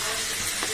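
Beef liver bhuna cooking over medium heat in a pan, its gravy nearly dried, giving a steady soft sizzle and stir with no talk.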